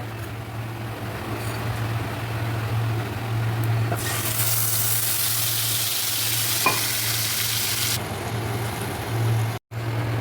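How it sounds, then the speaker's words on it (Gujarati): Cumin seeds sizzle in hot oil for a farali paneer gravy, a steady loud frying hiss that holds throughout and swells brighter in the middle, with no voices. "ગ્રેવી માટે મેં થોડું તેલ લીધું છે, એમાં જીરું નાખશું."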